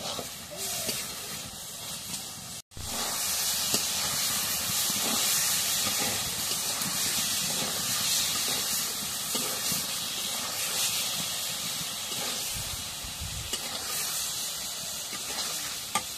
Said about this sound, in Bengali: সয়াবিন বড়ি একটু ভাজে নিই, ভেজে নিয়ে আলুটা দিই।